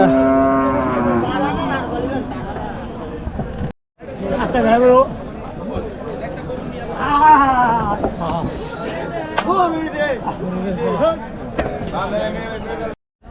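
Cows low and moo several times amid a busy cattle market, with people chattering and haggling close by throughout.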